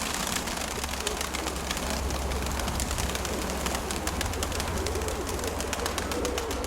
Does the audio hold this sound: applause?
no